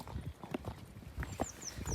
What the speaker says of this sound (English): Oh, there are horses